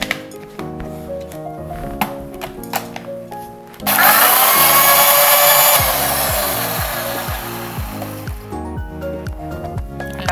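A kitchen mixer grinder blends cucumber, milk, sugar, cardamom powder and two ice cubes in a loud, gritty whir lasting about two seconds, with background music playing before, during and after the burst.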